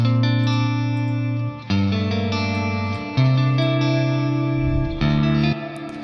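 Distorted electric guitar chords with heavy effects, drenched in a long 8-second reverb with a big low cut and a half-note ping pong delay, sustained and loud with chord changes every second or two, no talking.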